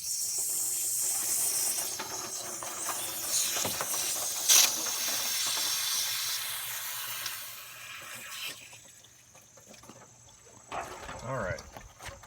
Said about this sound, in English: I'm getting a steady flow underneath there and I'm completely missing the pan